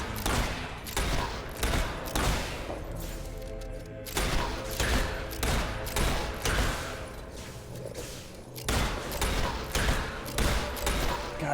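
Gunfire from a gun in the video game Fable 3 rattles out in dense, loud bursts, three long volleys of rapid shots separated by brief pauses, with game sounds filling the background.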